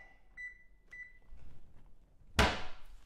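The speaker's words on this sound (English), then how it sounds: "Put my timer on that for about 1 minute" A kitchen timer set for one minute while toast browns beside a stovetop sauce: a few short electronic beeps from button presses, followed by a sharp clunk or thud near the end.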